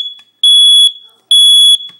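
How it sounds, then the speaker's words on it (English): A smoke detector in test mode sounds two loud, piercing electronic beeps, each about half a second long with a short gap between, close to the microphone. "It's currently set to the normal position, and the instructions say to turn to test 1. The alarm will sound within 20 seconds."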